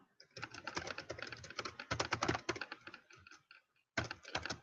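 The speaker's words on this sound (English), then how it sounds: "So I'm typing in a message." Rapid clattering keystrokes on a computer keyboard, steady bursts of typing with a short pause near the end before resuming, close and clear.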